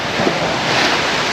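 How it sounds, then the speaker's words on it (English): Sea waves and rushing wind roar steadily around a fast-moving sailboat out in the archipelago, a loud, continuous wash of noise with no voices. "And there is some waves here as well."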